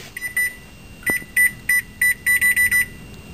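A kitchen timer being set for pizza emits a series of short, bright electronic beeps in irregular quick groups, close and loud, alone without speech.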